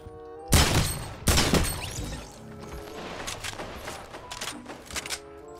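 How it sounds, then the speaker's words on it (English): Gunfire in Fortnite Battle Royale bursts out in two loud volleys followed by a rapid scatter of lighter shots and mechanical clatter, dense and close with no talk over it. "I'm getting shot at."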